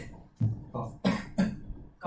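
A series of short, sharp coughs, about five in quick succession, close to the microphone with brief pauses between them.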